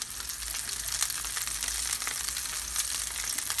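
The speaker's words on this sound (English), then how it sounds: "I'm going to brown off these sausages first" Sausages browning in a frying pan give a continuous, even sizzle and crackle, close and steady throughout with no talking.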